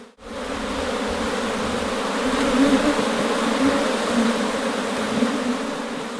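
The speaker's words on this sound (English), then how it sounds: "All the others, or most of the others, are worker bees, female bees." Honeybees buzz in a dense, continuous drone from an opened beehive full of worker bees and a drone, close and loud, with no talk over it.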